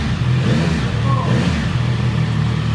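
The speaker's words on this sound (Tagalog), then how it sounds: "Unang rev sir, ikaw." A CF Moto 675 SR motorcycle engine, a 2025 model, runs loud and close with a steady revving drone throughout, its low rumble constant with no silent gaps.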